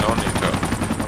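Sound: helicopter in the video game Project Reality

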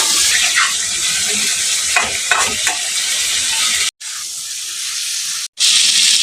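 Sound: potato and papaya being sautéed in a pan

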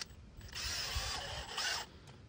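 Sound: power drill pre-drilling holes in wood board

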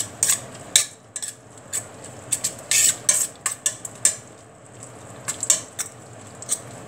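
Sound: stirring lime juice mixture in a bowl

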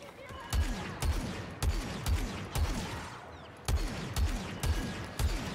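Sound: blaster gunfire in Star Wars Battlefront II video game

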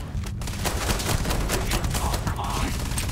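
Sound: guns firing in the video game Starfield

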